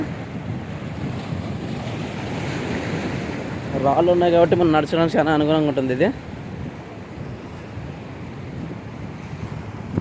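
Sea waves crash on a rocky Karnataka beach, a continuous close rush of surf with wind buffeting the microphone, and someone talks over it for a couple of seconds in the middle.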